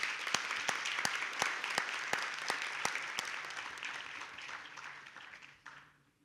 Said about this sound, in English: we could give him the just applause that he deserves